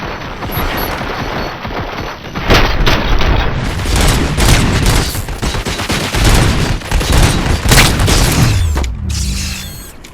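Loud, dense gunfire in RoboCop: Rogue City, rapid automatic bursts and heavy booming shots overlapping continuously for several seconds before tapering into mechanical sounds.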